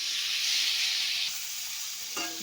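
Fried potatoes and spice paste sizzle steadily in a hot pan, a close, constant hissing fry with a faint scrape of stirring near the end.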